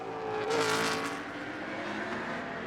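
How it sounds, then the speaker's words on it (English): A BMW GT race car at full throttle on the Moscow circuit during qualifying, a loud, sustained engine roar swelling as it passes close by and then holding steady, no speech. "This is the 77 Brazilian BMW, currently in the hands of Valdeno Brito."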